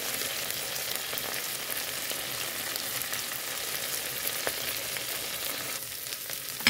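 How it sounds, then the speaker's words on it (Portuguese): Steady crackling sizzle of shrimp frying in hot oil, continuous and fairly soft, with occasional sharper pops. "Coloquei o óleo. E aí agora tá fritando, ó."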